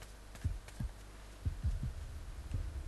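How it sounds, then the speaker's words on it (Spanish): A steady heartbeat thumps in the Dragon Ball The Breakers video game, a series of low, soft pulses repeating at an even pace over a faint background hum. "Oigo el latido."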